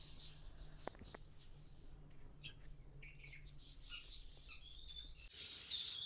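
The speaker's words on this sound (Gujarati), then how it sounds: "હવે પક્ષીઓનો સારો એવો અવાજ આવતો હશે હો તમને." Sparrows chirping outdoors near a home, faint scattered tweets and short squawks over a low steady background hum, distant and light throughout.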